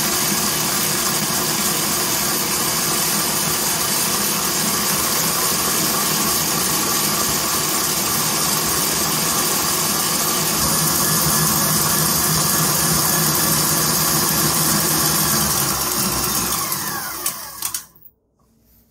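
An electric stand mixer runs at high speed whipping cream with vanilla extract and icing sugar, a steady loud whirring drone that holds for most of the time before cutting off abruptly.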